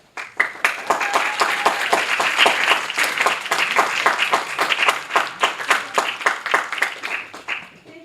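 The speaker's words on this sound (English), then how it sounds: "we'd like to give them a big round of applause" An audience at a student government presidential debate claps steadily for about eight seconds, a dense, even round of applause heard close with no talking over it.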